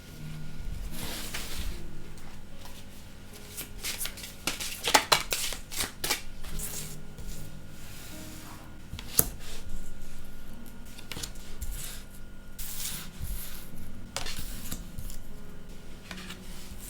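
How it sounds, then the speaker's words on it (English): A Crow Tarot deck being shuffled by hand: repeated crisp, riffling card flutters and soft slaps, close and fairly loud, in irregular bursts with no talking. "I'm just going to start shuffling"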